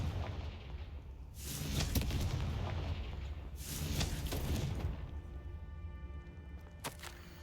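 A Confringo fire-blast spell explodes in Hogwarts Legacy, a couple of broad, booming blasts with rumbling low end, each swelling and fading, followed by a sharper crack near the end, heard up close with no talk.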